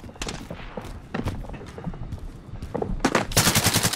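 Gunfire in the Call of Duty: Warzone video game, a scattered series of sharp shots and short bursts from varying distances, building to a rapid, louder volley at the end.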